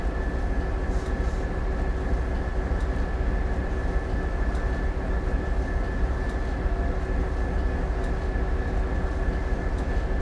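Caltrain baby bullet train on the Peninsula Corridor route in Train Sim World, locomotive leading away from San Francisco; a steady, loud rumble with a held tonal hum runs throughout, with no talk.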